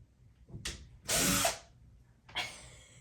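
Power drill boring a pilot hole in a wall in short bursts: a brief whir, a longer loud grinding run through the wall, then another short burst, fairly close and without talk.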